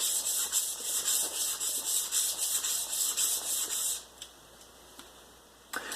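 A drawknife is sharpened on a low grit stone, giving a rhythmic series of rasping back-and-forth strokes for about four seconds, then quiet apart from two faint taps.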